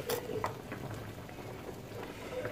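Water boils in a pot with onions, a soft continuous bubbling and crackle close by with faint occasional pops, quiet and without talk.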